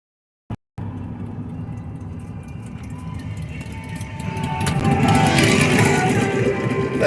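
A Harley motorcycle approaches along a road, its engine rumble building steadily louder and brighter over several seconds as it nears, with faint music carried along.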